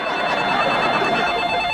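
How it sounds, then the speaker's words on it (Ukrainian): A telephone rings in an apartment in a sitcom scene, a steady electronic ring that carries on without a break, fairly loud and heard alone. "Я знаю, що телефон."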